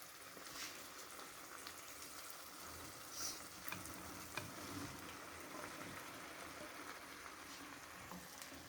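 Okra frying in oily masala in a pan, a faint, steady sizzle with a few soft crackles, close but low in level.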